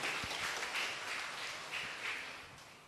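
Faint applause from a crowd, a soft wash of clapping that swells and fades gently, heard at a distance.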